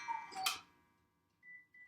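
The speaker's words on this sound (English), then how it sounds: "A different clock this time, though" A clock giving a single sharp tick with a brief ringing tail, then near quiet with a faint high tone, heard alone.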